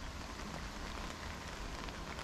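Cold rain falling steadily on a pond, a dense, even patter with no pauses, heard up close and alone.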